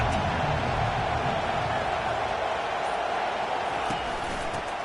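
A college football stadium crowd in a game against Texas A&M keeps up a loud, sustained roar of cheering, with a broadcaster's voice faintly audible beneath.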